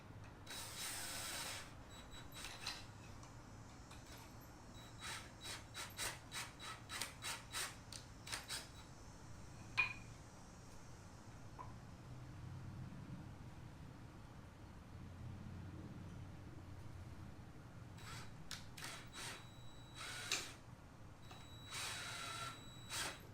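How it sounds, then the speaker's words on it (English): A power driver sinks 2-inch Kreg pocket hole screws into wood in a run of short, whirring, ratcheting bursts separated by pauses, fairly quiet and with no talking. "I'm going to use 2-inch screws"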